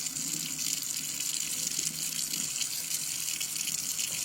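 Water runs steadily from a tap into a sink, a constant close hiss and splash for a few seconds with no talking.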